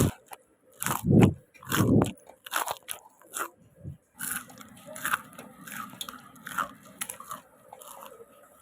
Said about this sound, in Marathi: आता तुम्ही ऐका किती कुरकुरीत झाल्यात आपल्या वड्या.